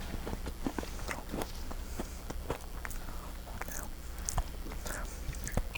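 A person chews food close to the microphone during an indoor interview: soft, irregular crunchy bites and wet mouth clicks scattered over a quiet room, with no talking.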